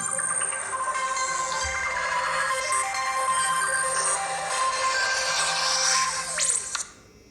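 A Moto Watch plays its incoming call ringtone, a bright repeating electronic melody sounding loud and steady for about six seconds before cutting off abruptly.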